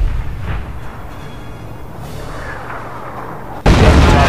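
In Company of Heroes: Opposing Fronts, an artillery line firing supercharged rounds rumbles low and distant for a few seconds before a sudden loud, heavy blast erupts near the end.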